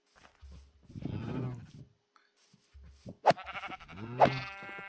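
Sheep in the Minecraft video game bleat two or three times, with wavering, nasal calls between pauses, alongside quieter game sounds.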